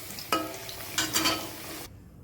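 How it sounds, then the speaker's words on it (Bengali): Potatoes fry in hot oil with a soft sizzle and a few brief scraping stirs of a utensil, quiet and close, ending abruptly. "এই তো আলুটা ভাজা হয়ে গেছে"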